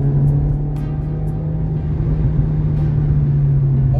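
Steady loud engine drone from a Renault Mégane RS Ultime hot hatch driving on the road, a constant low hum with road rumble and no clear rise in pitch, plus faint clicks, heard from inside the car.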